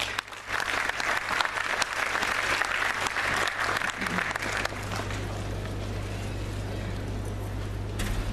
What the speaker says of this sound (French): Je voudrais que vous acclamez quand même.